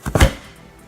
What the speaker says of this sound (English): Chopping the onions and the peppers.